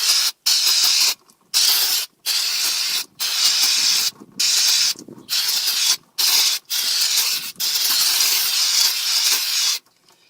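Brake cleaner sprayed from an aerosol can onto the rear brake parts of a 2004 Volvo XC90, in repeated close, loud hissing bursts of about a second each, separated by short pauses.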